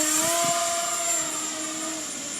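Loud, steady high-pitched whine of an RC glider's electric motor running on 4-cell power, a sustained buzzing drone close by with no talk.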